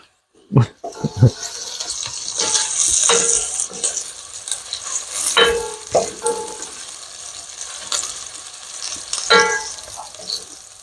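Garlic and onion fry in a pan with a continuous close sizzle, broken by clattering stirs and scraping. A voice talks intermittently over it.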